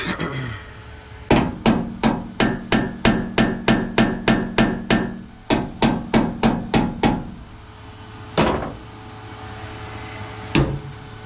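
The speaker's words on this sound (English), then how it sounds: "I have to do some hammering and adjusting to get it perfect" Hammer striking a rusted body panel during rust repair on a 1973 C25, a rapid run of about fifteen sharp metallic blows followed by a few slower spaced strikes, loud and close.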